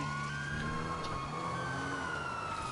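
Emergency-vehicle siren from a truck's siren system, a steady wailing tone held throughout, moderately faint over a constant engine rumble with no talk.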